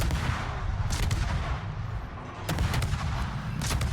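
Naval guns fire from a warship in a video game, heavy booming salvos in repeated bursts roughly every second or so over a dense rumbling battle backdrop, loud and close with no talk.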